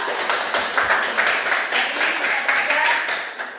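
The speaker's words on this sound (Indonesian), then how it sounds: "Tepuk tangan dulu untuk kalian semua" Schoolchildren clap together in a classroom, a steady dense patter of many small hands filling the room at close range for a few seconds, with a voice or two mixed in.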